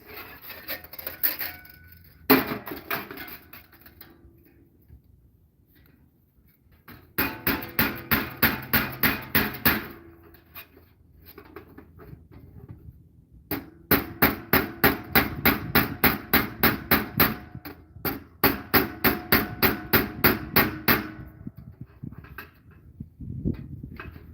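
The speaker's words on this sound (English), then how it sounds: "we're going to flatten it basically with the hammer here" Steel brigandine armor plate hammered flat to remove folds: bursts of rapid, sharp metallic strikes in quick rhythmic runs, close and loud, separated by short pauses, with no talking.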